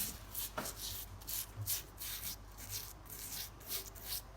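Soft copper brush scrubbing tinted varnish off a carved wooden Jacobean chair: rhythmic, close rubbing strokes, roughly a dozen short scrapes in quick succession, with no talk.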